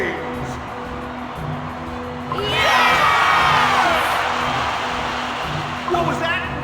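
A game crowd in Cookie Run Kingdom swells into loud cheering and whooping partway through, held steady over a constant musical backdrop, with voices mixed in.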